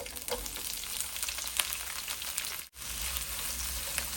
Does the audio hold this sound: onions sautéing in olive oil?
yes